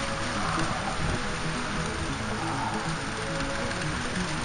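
Heavy rain from a windy storm pours down at a fishing spot, a dense, continuous hiss of drops close by with no voices.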